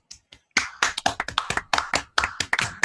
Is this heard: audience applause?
yes